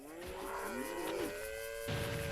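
Cattle mooing in The Bard's Tale on PlayStation 2, several overlapping low, drawn-out moos heard close and loud, with no talking.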